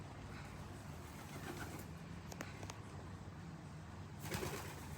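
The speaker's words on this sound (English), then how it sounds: "Roxy the racing pigeon" A racing pigeon with bands on its feet coos softly at close range, low murmuring calls over a faint hissy background, with a few brief rustles or wing sounds.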